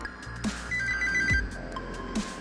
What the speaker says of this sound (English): because my business phone is going off